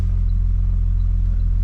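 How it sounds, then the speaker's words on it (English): An Audi with a manual gearbox idles with the clutch disengaged, giving a steady, loud, low rumble with a faint mechanical whine from the input shaft, heard briefly and alone. "my input shaft is making a noise when the clutch is disengaged"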